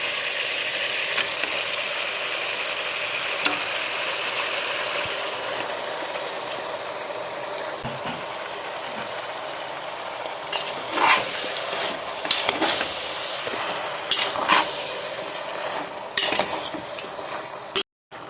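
Chicken pieces going into a hot pan for a Malayalam-style chicken stew, giving a steady sizzling hiss with scattered clicks and scraping stirs, close and continuous with no talk.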